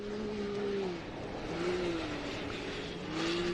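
Off-road racing vehicle engine at the Griffith round of the Australian Off-Road Racing Championship, a steady throaty drone whose pitch rises and falls in repeated revving swells, heard from a moderate distance.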